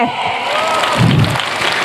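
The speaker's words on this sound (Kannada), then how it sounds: "ಬರ್ಲಿ ಜೋರ ಚಪ್ಪಾಳೆ ದೀಕ್ಷಾಗೆ" Loud, continuous applause and crowd cheering from a school annual day audience celebrating a performer named Deeksha, filling the short stretch as a steady wash of clapping.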